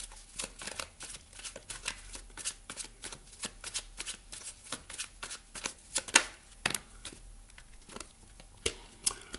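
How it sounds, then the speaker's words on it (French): Tarot cards being shuffled and drawn by hand, producing a dense, close riffling patter of quick overlapping flicks and slaps that runs continuously without speech. "Je vais aller vous chercher une autre carte ici au niveau de la mission de vie."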